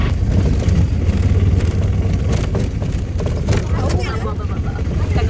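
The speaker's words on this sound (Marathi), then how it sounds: "आता रिक्षा भेटली आहे आणि आता चालली." An auto rickshaw in Hampi pulls away, its small engine droning and buzzing steadily close by, with people talking over the ride noise throughout.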